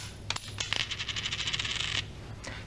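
A coin and a piece of paper dropped together onto the ground, the coin landing with a bright metallic clatter of rapid rattling bounces that spin down over about two seconds, close and clear with no talking.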